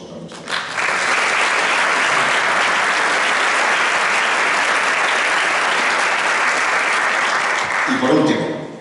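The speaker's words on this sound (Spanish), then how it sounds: "Un aplauso para nuestra." An audience applauds at a book presentation in Spain, sustained loud clapping that swells in after a brief pause and holds steady for about seven seconds before fading as a voice returns at the end.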